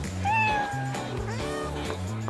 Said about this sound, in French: Mon chat est coincé.